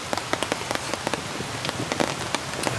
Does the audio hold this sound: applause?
no